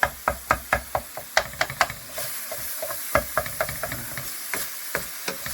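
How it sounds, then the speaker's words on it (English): A potato masher thumps and scrapes through ground meat browning in a pan for Jamaican patties, a run of sharp knocks over steady sizzling that softens into quieter stirring and occasional taps. "it's actually easier if you use a potato masher"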